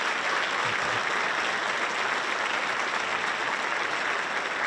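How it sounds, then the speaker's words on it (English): A large audience at a state police cadet class graduation gives sustained, even applause for academy staff and instructors, a dense wash of clapping with no talk over it. "if everyone could give a round of applause for our academy staff, our instructors, class supervisors"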